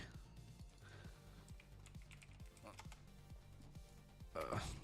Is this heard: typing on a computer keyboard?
yes